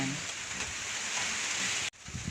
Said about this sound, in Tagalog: lumakas na yung ulan dito sa amin